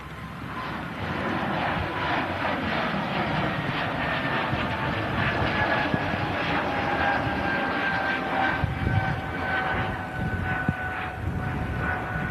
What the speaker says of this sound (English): As the Air France back out to Paris starts its roll at 8220